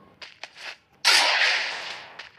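A Free Fire Max ranked battle-royale match with a single loud gunshot that cracks out sharply and rings on for over a second, after a few short faint taps.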